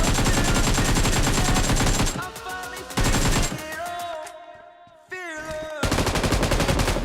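Repeated automatic gunfire bursts in the mobile battle-royale game PUBG Mobile, loud and close, with dense rattling volleys broken by brief pauses and a couple of quieter gaps.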